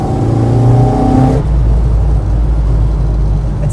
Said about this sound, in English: It sounds like an old car as well, though, even for Zetec.